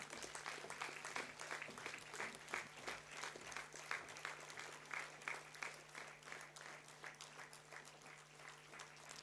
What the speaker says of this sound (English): You need to keep the applause going.